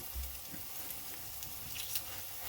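Quarkkeulchen, German potato pancakes, sizzling in a frying pan as they are flipped, a steady close crackle with faint spatters and a soft thump.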